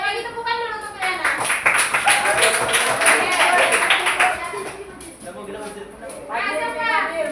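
A class of children claps together for a classmate during an Islamic education lesson, a dense burst of hand claps lasting a few seconds among children's voices, then fading as talk continues.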